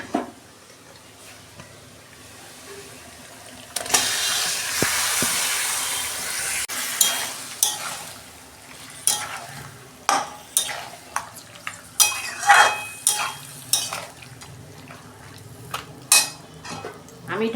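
Chicken pieces go into a pan of browned onions, giving a burst of hissing sizzle followed by repeated sharp clinks and scrapes of a utensil stirring against the pan.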